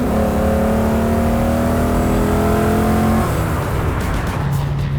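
A Holden VT Commodore with a 5-litre V8 accelerates hard, its engine note rising in a loud, steady climb, then easing off as a gear change settles the tone lower near the end.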